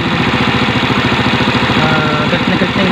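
A small engine idles with a steady, loud, even hum after its carburetor air-fuel mixture has been tuned, running alone without talk.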